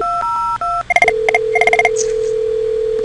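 A Cisco IP phone plays a string of DTMF keypad tones: a short dial tone, then a rapid run of clipped, evenly spaced beeps, loud and clean, followed by a sustained low tone.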